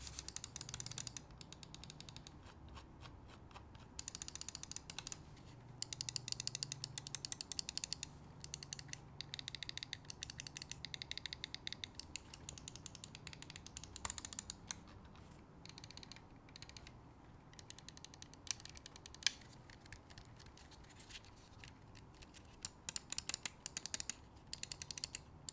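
Glorious Model O Wireless gaming mouse buttons clicked repeatedly in rapid, steady bursts, faint and close, with short pauses between runs of crisp clicks and no talking.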